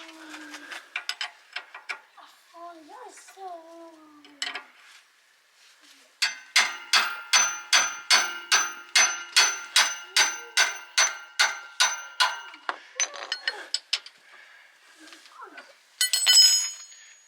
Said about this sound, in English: Now that's a real impact wrench.